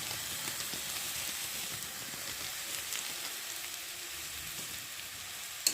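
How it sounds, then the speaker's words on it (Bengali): Vegetable chow mein in a frying pan sprinkled with pepper powder, giving a soft, even, rain-like sizzle at low volume with faint stirring and a single small knock at the end. "একটু ভালো করে নেড়ে চেড়ে নামিয়ে নেব"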